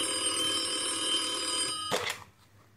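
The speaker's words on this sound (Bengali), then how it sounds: "এমন সময় ফোনটা বাজল" An old-style telephone bell rings continuously, then cuts off with a short clatter, leaving near silence.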